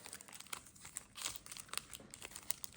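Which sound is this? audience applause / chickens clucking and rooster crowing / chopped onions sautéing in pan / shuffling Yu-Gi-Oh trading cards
shuffling Yu-Gi-Oh trading cards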